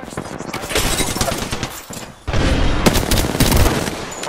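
Rapid gunfire bursts from an Apex Legends duos match crackle densely and loudly, with a short lull near the middle before shooting resumes, while a player's voice talks over the action.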